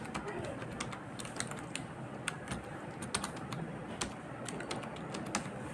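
Clicky keys are tapped on a computer keyboard in quick, uneven bursts at close range, with a steady background hiss underneath.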